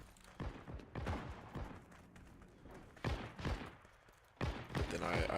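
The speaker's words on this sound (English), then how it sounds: "I do hear the grease gun, but I hear him reloading" Bursts of submachine-gun fire from a grease gun in a World War II shooter game crack outside in several rapid clusters, loud and close with short gaps between volleys.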